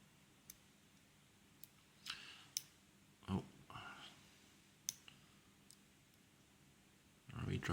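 Lock pins clicking faintly as an American Lock Series 5300 padlock is single-pin picked, a scatter of sharp, quiet ticks spread across the clip with a brief scrape and a louder rustle near the end.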